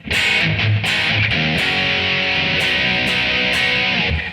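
Distorted electric guitar plays a chorus, loud and dense with bright, sustained chords and rhythmic attacks, alone without any voices.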